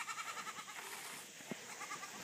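Goats on an off-grid mountain homestead bleat in the morning, a series of quavering calls at moderate distance over steady outdoor ambience, with no one talking.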